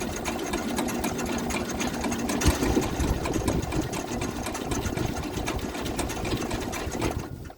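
Flooded Cub 154 tractor engine cranking and trying to start: continuous rapid chugging and rattling with uneven sputters, steady and fairly close, ending abruptly.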